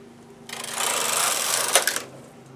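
The carriage of a Brother knitting machine is swept across all the needles to knit one row. It makes a single close, loud, whirring rattle that lasts about a second and a half and ends in a few sharp clicks.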